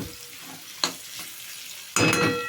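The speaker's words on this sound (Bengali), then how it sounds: "বিট গাজর একটু ঢেকে ঢেকে ভাজতে হয়" Beetroot and carrot frying in a pan: a soft continuous sizzle with two louder bursts of scraping as the vegetables are stirred, close and alone.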